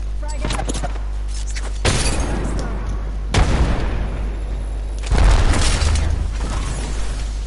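Three heavy frag grenade blasts in Apex Legends land a couple of seconds apart, each a loud, sharp boom with a rumbling tail, under continuous gameplay noise.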